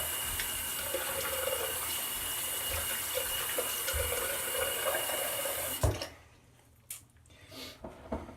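Running tap water splashes into a sink as a face is rinsed during a shave, a steady close gush that cuts off abruptly, followed by a few drips and quiet handling sounds.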